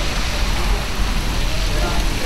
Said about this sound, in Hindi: ये रायपुर की तस्वीरें हैं जहां कल रात से ही बारिश हो रही है